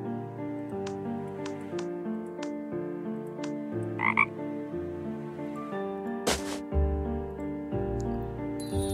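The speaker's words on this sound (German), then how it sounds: "Das war der Frosch." A frog in the Dark Tales video game gives a run of croaks over a musical background of sustained tones. A few sharp clicks and chimes are scattered between the croaks.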